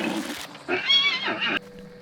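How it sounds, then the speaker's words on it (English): In the video game Hunt: Showdown, a wounded horse lets out a loud, close whinny that rises and wavers for about a second before cutting off. "And wounded horses."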